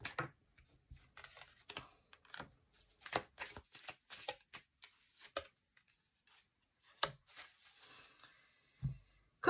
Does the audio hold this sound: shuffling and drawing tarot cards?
yes